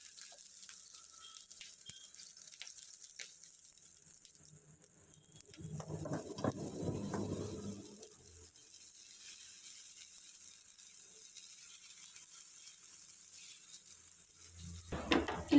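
Black-eyed pea (alasanda) dosa batter meets a hot dosa pan, bursting into a brief crackling sizzle midway through an otherwise quiet stretch, with a faint hiss and small clinks around it.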